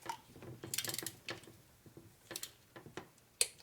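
Sharp metallic ratcheting and a few distinct clicks from a torque wrench tightening bolts on a 2011 Harley Road Glide twin cam motor, close and moderately loud in short bursts with no talking.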